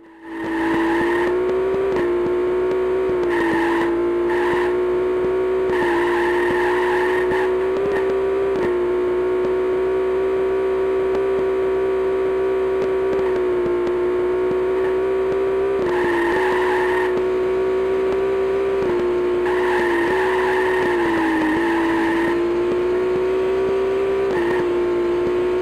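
Engine drone from the car-combat racing game Death Cars, a steady loud whine holding one pitch with small shifts and occasional brief higher bursts, continuous for the whole stretch with no talking.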